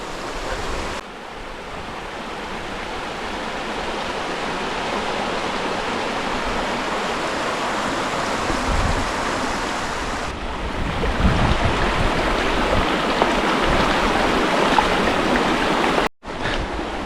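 The Río Guadalevín in the Sierra de las Nieves rushes past in a loud, steady broadband roar of flowing water, close by and unbroken, with a brief cut near the end.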